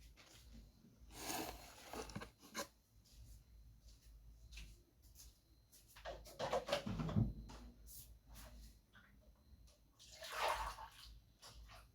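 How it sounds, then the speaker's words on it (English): Water poured for drinking, heard as faint splashing and trickling in a few short bursts against a quiet room background. "so thirsty. Let me take water."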